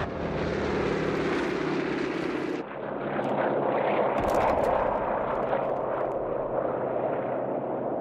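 A Skytrain transport aircraft in Company of Heroes 3 roars overhead, its propeller engine drone loud and steady, shifting abruptly partway through into a deeper rumbling pass with scattered crackles of battle.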